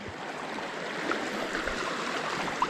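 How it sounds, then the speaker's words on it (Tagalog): Steady broadband rush of a river flowing, like a stream running over rocks, continuous and fairly close with no voices. "tatawid pa ng ilog ang lamig ng tubig"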